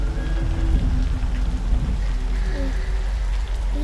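Steady rain falls around a château in a French ghost story, a dense continuous patter with low rumbling underneath and no pauses.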